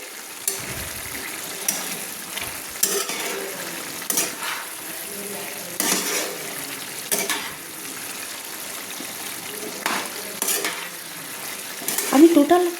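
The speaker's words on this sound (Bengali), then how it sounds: "দিয়ে একটু ভালো করে আমি নেড়ে নিচ্ছি" Sliced tomatoes and drumsticks are stirred in a pan over gentle sizzling, with regular scraping and clinking strokes of a utensil every second or so, up close and moderately loud.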